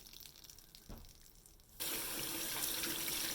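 A tap runs steadily into a sink as a makeup brush is rinsed under it, the flow surging loud and broadband partway through after quieter handling noises and a brief thump.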